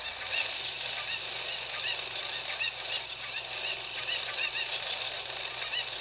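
A flock of chickens in the Zelda Ocarina of Time video game, continuous overlapping clucks and squawks forming a dense, steady barnyard chatter.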